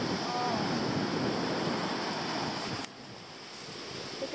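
Ocean waves surge and wash onto a Hawaii beach, a broad hissing roar of surf with soft background voices, dropping suddenly to a quieter rush partway through.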